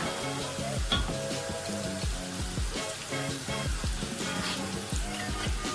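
Carrots sautéing in a pan over full flame for chicken shashlik with egg fried rice, a steady close sizzle broken by repeated stirring scrapes and clatters at an uneven rhythm.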